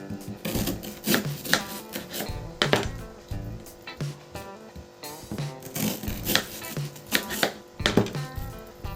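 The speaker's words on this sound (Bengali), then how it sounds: "এবার থোড়টাকে কেটে নেব। থোড়টাকে চাক করে কেটে নেব।" A knife slices banana stem into rounds, producing a rapid series of crisp, close chops in an uneven rhythm.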